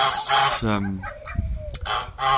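Hen on a small French farm clucking close by in a few short throaty bursts mixed with bird calls, with someone talking in between.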